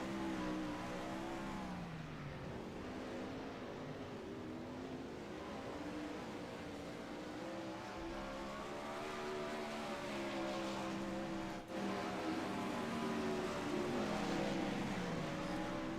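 Sprint cars race around a dirt track in practice laps, a steady loud engine roar holding throughout with rising and falling pitch as cars pass, no talk over it.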